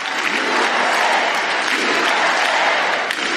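A large audience at a political speech at the Gaylord Opryland Resort in Nashville, Tennessee claps loudly and steadily, dense applause filling the whole moment with no pauses.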